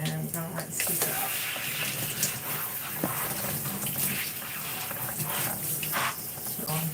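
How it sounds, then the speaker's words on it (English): Water runs steadily from a shower or tap while hair is being rinsed after shampooing a natural-hair set, a continuous broadband hiss with splashy fluctuations and faint voice-like sounds in the background. "we're going to rinse this out"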